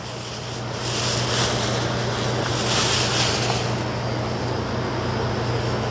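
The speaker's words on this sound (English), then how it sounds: "Let me rinse this all off." Parsley rinsed under a running tap, a continuous broad rush of water that starts quietly and swells to a steady loud flow over a low constant hum, close by with no talking.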